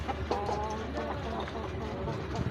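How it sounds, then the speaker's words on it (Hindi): Chickens cluck at a busy market stall, with soft, repeated clucks mixed into dense crowd noise and background chatter. "ये अमीर भाई के पास मुर्गी है, देखते हैं किस तरह की मुर्गी है।"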